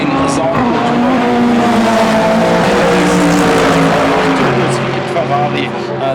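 DTM race cars, among them a V10 and an Opel, run in qualifying at the Norisring, their engines loud and continuous, rising and falling in pitch through the gears, with tires squealing and a commentator talking over them.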